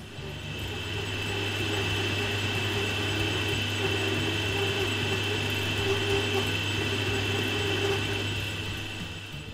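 A metal lathe runs steadily while machining parts for a 1935 Dodge truck chassis, giving a loud, continuous mechanical drone with a constant hum and high whine throughout, with no talking.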